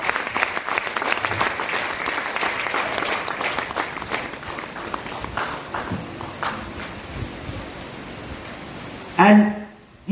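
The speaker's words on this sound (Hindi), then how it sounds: "जोरदार ताली, ताली जोरदार प्लीज" An audience at a motivational stage event welcoming a guest, a loud sustained applause that thins out toward the end, with voices over it.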